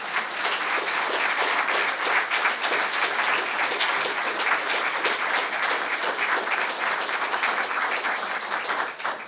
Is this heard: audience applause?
yes